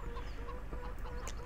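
Chickens clucking in Farming Simulator 17, a steady, fairly quiet run of short farmyard clucks over a constant low background hum, with no talking.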